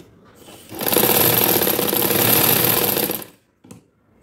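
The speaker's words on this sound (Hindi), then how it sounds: "इस तरह से हम पलट के ऊपर सिलाई लगा लेते हैं।" Sewing machine stitching a seam on an organza dress, a close, loud rapid whirring run of about two and a half seconds that stops abruptly, followed by a short click.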